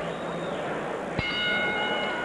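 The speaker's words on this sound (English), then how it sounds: "Bell for round three." A boxing ring bell strikes once, sharp and ringing, to open round three of a scheduled twelve-round IBA 108-pound title fight, its tone lingering over a steady arena crowd murmur.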